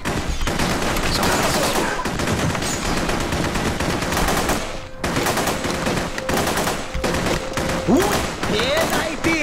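Rapid automatic gunfire rattles in The Punisher video game, dense loud bursts filling the scene with a brief pause midway, mixed with in-game shouting voices.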